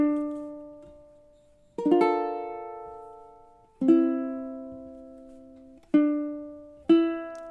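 A short ukulele melody phrase from a song, five clean plucked notes with long sustains and some overlapping strings, played alone and close.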